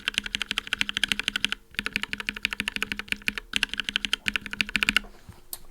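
Mechanical keyboard fitted with Invyr UHMWPE switch stems, typed on in steady rapid bursts of close clicky-thocky keystrokes with a couple of brief pauses, heard alone.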